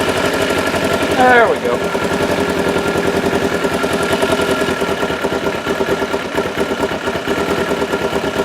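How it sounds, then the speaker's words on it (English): A motorcycle engine being revved during a carburetor sync, its rough, rapid-firing idle climbing in pitch briefly before settling back into a loud, steady chug, with someone briefly speaking over it. "Choke is fully off. I'll pick the RPM up."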